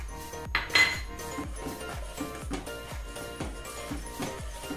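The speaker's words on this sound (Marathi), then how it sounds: "आणि सारखं असं ढवळत राहायचंय दूध, खाली असं लागलं नाही पाहिजे।" A spoon scrapes and knocks against a metal pot in a steady rhythm of repeated strokes while boiling milk with sugar is stirred, close and clear, with occasional brighter metallic clinks.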